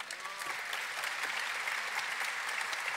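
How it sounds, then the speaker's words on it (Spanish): Steady applause from a graduation audience at a spring 2024 postgraduate ceremony, a dense, even wash of many hands clapping throughout without a break. "¡Aplausos!"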